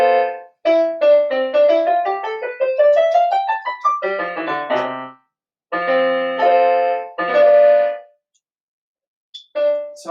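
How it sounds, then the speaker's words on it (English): Default Roland-licensed piano voice on a Rock Jam RJ761 electronic keyboard plays a quick rising run of single notes, then several separate chords with short silences between them, clean and close with no talking. "Here's the default piano sound. Licensed by Roland."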